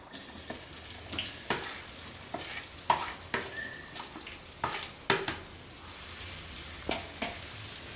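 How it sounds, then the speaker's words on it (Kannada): Onions frying in oil in a pan, a low continuous sizzle broken by regular scraping stir strokes every half second or so, close and without talk. "ಫ್ರೈ ಮಾಡ್ಕೊಬೇಕು ಈರುಳ್ಳಿನ"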